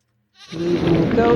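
Goat in the modded Morrowind video game gives a single close bleat that rises abruptly from silence and holds for about a second, sounding alone.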